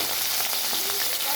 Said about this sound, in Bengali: কড়াইতে সর্ষের তেলটা গরম হয়ে গেছে, তো এখানে আমি দিয়ে দিচ্ছি চিংড়ি মাছ